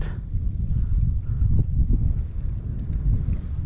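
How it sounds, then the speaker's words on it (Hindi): Strong wind blows steadily in the high Himalayan mountains near Adi Kailash, between Kuti village and Jolingkong. It buffets the microphone with a loud, continuous low rumble. No one speaks. "हवा चल रही है"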